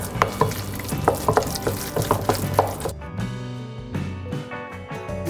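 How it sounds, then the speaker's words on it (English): Erbazzone dough ingredients and a whole egg are stirred together in a bowl, giving soft scraping and sloshing strokes in an irregular rhythm, close by, then a quieter stretch of lighter mixing. "now we mix it all together until it's nice"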